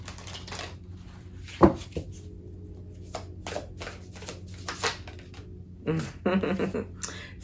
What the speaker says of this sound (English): Just going to pull one tarot card that's going to say everything that I need to know